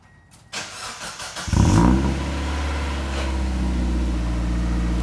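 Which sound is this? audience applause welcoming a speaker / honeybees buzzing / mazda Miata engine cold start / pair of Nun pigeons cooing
mazda Miata engine cold start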